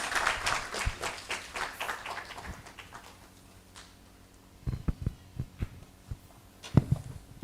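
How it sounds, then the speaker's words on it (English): A conference audience at a sustainable engineering event claps, first in a dense patter of hands that fades out, then in a sparser, quieter scattering of claps after a brief lull. "Can we please clap louder than this?"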